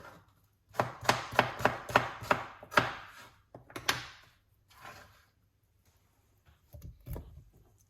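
A knife chopping cucumber on a board, a quick run of about eight sharp crisp cuts, a short pause, a couple more strokes, then scattered single taps trailing off into quiet.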